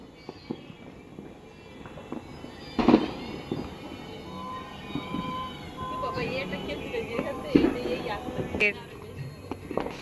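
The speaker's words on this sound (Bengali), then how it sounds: "আজকে সারা রাত কালী পুজো হবে আর বাজি ফাটবে" Firecrackers pop during Kali Puja night, with sharp bursts around three and eight seconds and scattered smaller cracks over a busy outdoor background, while a voice speaks and a cat meows at times.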